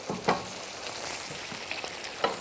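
Chicken fricassée cooks gently in a pan, a soft continuous sizzle and bubble with a few scattered stirring clicks, close and fairly quiet without talk.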